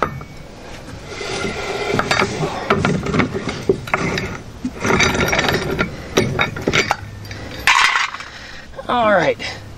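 Lug nuts coming off a VW Beetle wheel, a series of clinking, ratcheting metallic clicks and clatter of loose nuts and tools, close up and fairly loud with no talking.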